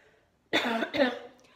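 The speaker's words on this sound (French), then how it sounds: "Je vais tousser." A person coughs twice in quick succession, close and fairly loud, against a quiet background.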